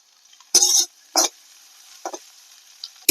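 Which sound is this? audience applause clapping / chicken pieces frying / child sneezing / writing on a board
chicken pieces frying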